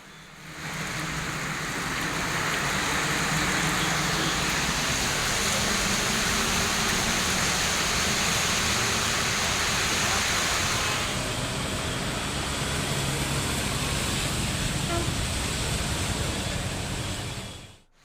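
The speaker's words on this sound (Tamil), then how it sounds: "பகுதியில் பெய்த மழையால் சென்னை திருச்சி தேசிய நெடுஞ்சாலையில் மழைநீர் குளம் போல் தேங்கியது" Heavy rain pours onto the waterlogged Chennai–Trichy National Highway, a dense, steady hiss of water that holds at the same loud level throughout, with no voices.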